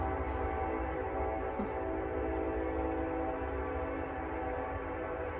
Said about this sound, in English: what you hear is the train.